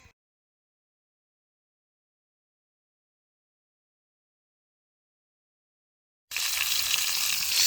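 Seasoned fillet steaks frying in a pan over a campfire: a steady, loud, close sizzle that starts abruptly near the end after near-silence and holds without talk.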